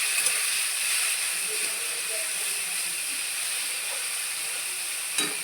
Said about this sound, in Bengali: ওটা আদা জিরে বাটাটা দিয়ে এবার কষাচ্ছি